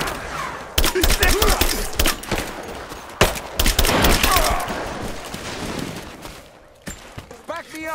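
Bursts of automatic gunfire crackle in a Rise of the Tomb Raider firefight. Dense, loud volleys come in several clusters, then a short lull with voices shouting near the end.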